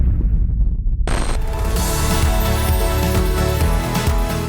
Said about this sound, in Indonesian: Dentuman dan kilau kembang api nan spektakuler terlihat menghiasi langit di dekat menara mewah tertinggi di dunia Burj Khalifa Dubai